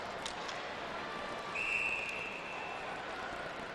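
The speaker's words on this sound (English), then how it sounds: "And a whistle." A referee's whistle sounds at a high school boys hockey championship game, a single steady blast of about half a second, distant and faint against the hum of a large arena.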